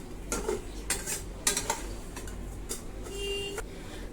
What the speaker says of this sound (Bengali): এখন এই কড়াইতেই সেমাইগুলো অল্প আছে ভেজে নিব।